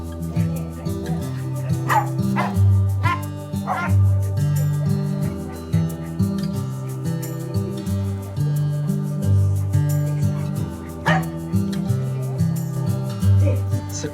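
Rescued dachshunds bark and yip at an adoption day, a handful of sharp, close barks scattered over a steady background hum, with a pause in the middle before another bark near the end.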